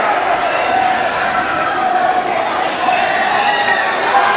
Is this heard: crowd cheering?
yes